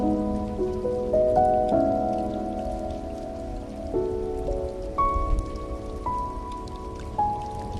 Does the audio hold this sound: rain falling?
yes